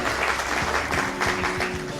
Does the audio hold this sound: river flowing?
no